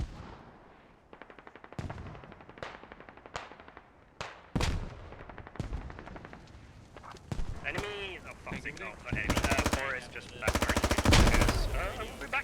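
Gunfire rings out in a military video game set in urban street fighting, with rapid automatic bursts, single sharp shots and heavier blasts, close and loud, alongside radio chatter and voices.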